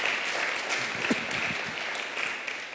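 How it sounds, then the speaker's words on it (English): An audience at a live event applauds guests arriving from the UK and US. Continuous, moderately loud clapping fills the whole short stretch, with a faint voice briefly surfacing beneath it. "please, a big round of applause"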